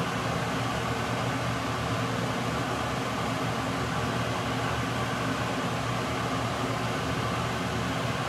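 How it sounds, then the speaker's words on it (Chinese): Kitchen range hood exhaust fan running during deep-frying of Japanese-style fried chicken, a constant broadband whoosh with low hum, steady and close throughout without pauses or talk. "开抽油烟机"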